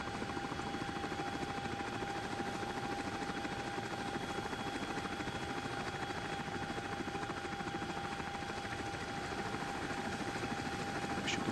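Steady rotor thrum and whine of a CH-47D Chinook tandem-rotor helicopter taxiing slowly on the ground in the X-Plane 12 simulator, a continuous even drone with a high tonal whine, no voices.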